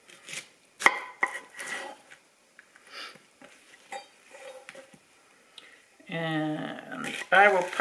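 Kitchen knife chopping pineapple on a board during breakfast tray prep, a series of sharp separate cuts spaced irregularly, with a voice speaking between them and a brief clatter near the end.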